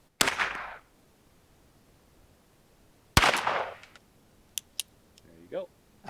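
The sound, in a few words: gunshots at ranch rifle range, lever action .22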